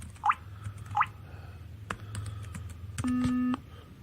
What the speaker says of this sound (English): here's one of the sine wave of 250 hertz